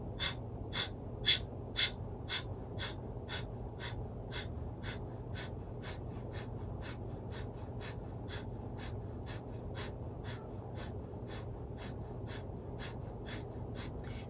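Rhythmic kriya yoga breathing: sharp, forceful breaths repeat at a steady, rapid pace of roughly one every half second for the whole stretch, close and clear over a low constant hum.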